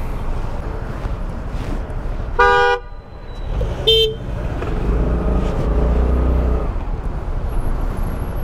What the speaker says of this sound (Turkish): kornaya basıyor, bir şeyler yapıyor